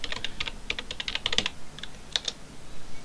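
A username and password typed on a computer keyboard, quick irregular bursts of crisp key clicks heard up close in a quiet room.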